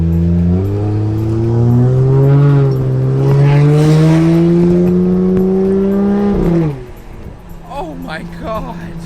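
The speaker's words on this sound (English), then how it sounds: "It's so weird hearing this car actually have an exhaust tone to it." Straight-piped 1JZ engine in a Toyota Soarer revving hard: a loud, raspy exhaust tone climbs steadily for several seconds, drops off sharply, then idles and blips quieter with some background noise.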